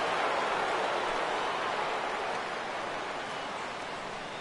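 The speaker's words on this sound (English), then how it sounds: "the rain is really starting to come down" Steady rain pouring down on the ballpark in a baseball video game, a dense even hiss with no talk, fading slightly toward the end.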